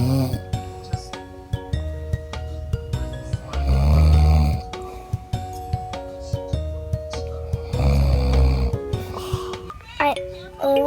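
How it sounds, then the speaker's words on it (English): A man snores while asleep, loud rasping breaths drawn in two long bouts, with someone talking quietly and faint clinks between them. "So right now, I'm going to hear my dad snore over there."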